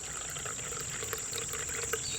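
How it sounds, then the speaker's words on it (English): Water is poured through a cotton bandana pre-filter into a Grayl stainless steel container, giving a continuous soft splashing trickle that holds steady throughout with no talk. "I'm just going to place that here over my Grayl container, and I can just simply pour this water through"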